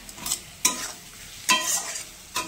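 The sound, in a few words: tomatoes added to frying pan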